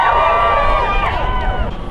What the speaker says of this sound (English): So it looks like we've got a good crowd here.